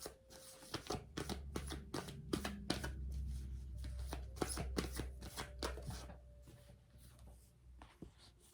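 Energy cards for a moon reading shuffled by hand, with quick repeated riffling snaps and soft slides close by, in irregular bursts over a quiet background.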